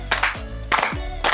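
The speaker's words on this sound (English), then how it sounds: "Slow clap." A few slow, deliberate hand claps spaced about half a second apart, close and distinct, with a little low rumble between them.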